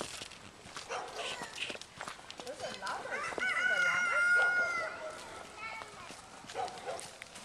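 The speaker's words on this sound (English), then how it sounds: "There's one smart chicken left." Chickens being fed, with a rooster crowing mid-clip and other fowl sounds, plus footsteps and a dog nearby, heard at moderate distance.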